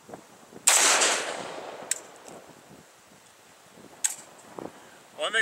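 Rifle shots fired outdoors in an open field during a shooting session with a precision gun rest: one loud sharp report with a decaying tail, followed by a few fainter cracks and clicks.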